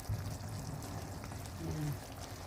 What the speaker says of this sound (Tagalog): Ilagay na natin itong glutinous rice.